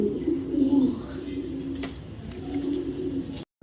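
Racing pigeons, ring-chipped birds from a breeder's loft, give a steady low cooing that carries through the whole stretch, close and moderately loud, with no talk.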